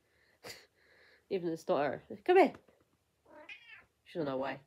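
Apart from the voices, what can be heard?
pet cat meowing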